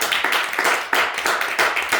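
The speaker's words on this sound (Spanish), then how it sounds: "Dale un aplauso a Cristo, hermanos" Clapping in a church during a Bible study gathering, given as praise to Christ: a few loud, close bursts of hand claps in uneven rhythm, with no speech over them.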